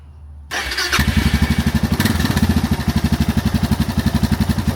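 A Suzuki DR650 motorcycle with its stock exhaust starts after a short quiet moment and settles into a steady, close, loud thumping single-cylinder idle.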